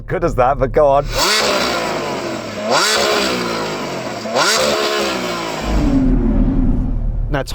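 Loud, close Lamborghini SVJ engine revs through a tiny exhaust in three rising bursts, each sharp and throaty, followed by a rumbling idle at the end.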